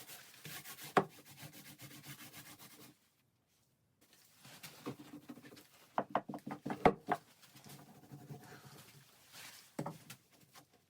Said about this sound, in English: I brush epoxy over the fabric, thoroughly soaking it and shaping the edges.